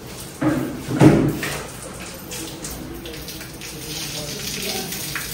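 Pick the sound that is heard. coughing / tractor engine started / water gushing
water gushing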